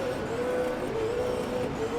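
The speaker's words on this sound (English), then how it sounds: "he's going to do the burnout up against the wall" Super 2 race car doing a burnout against the wall at Adelaide, a steady, droning engine note held with a whining tone that wavers slightly, heard at a moderate distance without pause for two seconds.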